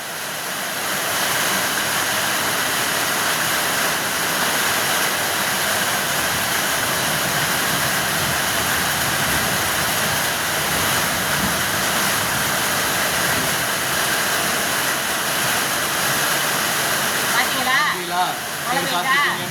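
Heavy rain pouring down outdoors as a dense, steady hiss that fills the whole clip, loud and close, with faint voices briefly audible near the end.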